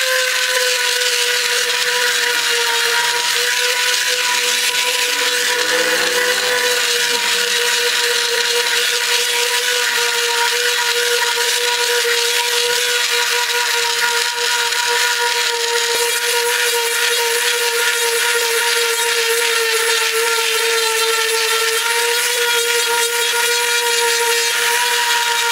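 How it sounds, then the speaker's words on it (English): A power sander working on a C5 Corvette bumper whines steadily at close range, a continuous high buzzing hum that barely changes for the whole stretch. "So let's go ahead and get to sanding,"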